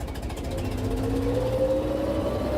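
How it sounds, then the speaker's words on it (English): A Ferret armoured car's engine runs at a steady idle, a continuous low rumble with a faint rising tone, close and even throughout with no voices. "But Bruce assured us the engine was fine."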